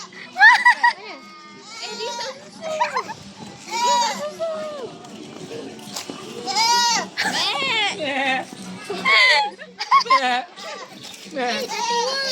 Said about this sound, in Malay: Kambing tu mak.